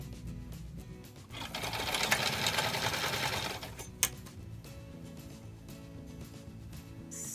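A sewing machine quilting seams on a free-form quilt, a steady close motor hum and needle rattle that builds for a few seconds, then slows, with one sharp click and a quieter machine drone after.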